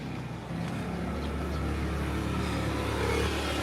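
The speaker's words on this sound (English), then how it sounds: "I get tired of all the motorcycle sounds around me." Steady engine drone of motorcycles running close by on a street in the Philippines, a continuous loud rumble with no voices over it.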